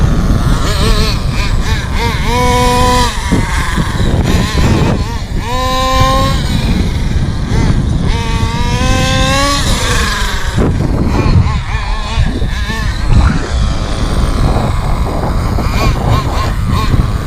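An HPI MT2 G3.0 nitro RC truck engine runs loud and close, rising and falling through several sharp revving sweeps before settling into a steady, buzzing idle.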